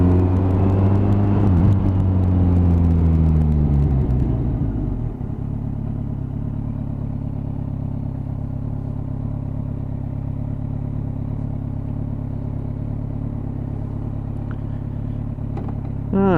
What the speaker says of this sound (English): GTR is running absolutely lovely this morning